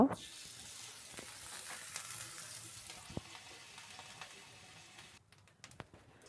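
Shrimp fry in hot oil in a home kitchen, giving a steady, fairly quiet sizzle with scattered crackles and pops, heard alone without talking.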